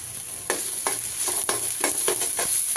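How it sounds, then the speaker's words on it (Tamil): Ground paste fries in a pan with a soft, steady sizzle, broken by repeated scraping strokes of a spatula at a quick, even rhythm. "நல்லா ஃப்ரை பண்ணணும்"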